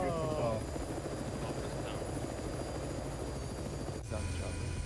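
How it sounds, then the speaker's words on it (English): Arma 3 military helicopter, a loud, steady rotor thump and engine drone filling the scene continuously, with voices talking over it. "Let's get to the chopper."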